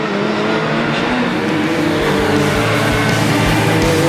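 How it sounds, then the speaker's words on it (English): Formula 2 stock cars racing at Grimley Raceway, loud close engines roaring and revving continuously with rhythmic low thumps as cars pass, no talk over it. "Excellent racing from the Formula 2 stock cars."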